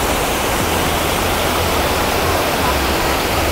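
Mountain streams flow near a village in the Sapa hills, a loud unbroken rushing of water filling the scene evenly and close by, with no pauses.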